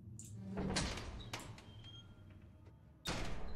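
Door opening and closing in the video game Lethal Company, a sharp slide and thump followed by another clunk a few seconds later, fairly quiet and clear with little else around it.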